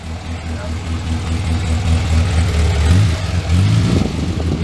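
1968 Morris Minor 1000 engine running cold, a steady low idle with a slight rise in revs, close and continuous, with voices talking over it.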